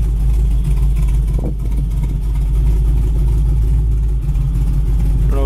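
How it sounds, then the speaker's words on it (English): A 1964 Chevy Nova with a performance cam idles nearby, a loud steady lumpy rumble with a slightly uneven, choppy rhythm throughout. "I don't know if you can listen to this car run. It's got a great cam to it."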